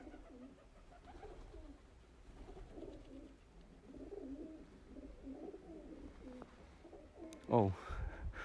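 Pigeons coo softly on an old town street in Częstochowa, faint and somewhat distant against low street ambience, with a brief louder sound near the end.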